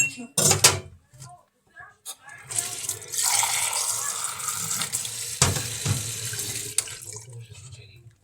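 A household tap is turned on to get a drink of water. It gives a steady, close rushing stream that runs for several seconds, with knocks and clatter before it. Voices talk around it.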